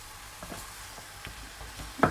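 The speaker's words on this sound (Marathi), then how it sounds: "आता हे चांगलं परतून घ्यायचंय।" Kolhapuri mutton masala with ginger-garlic paste and turmeric being sautéed in a pan: a soft, low sizzle with scattered scraping stir strokes, ending in a sharp clatter.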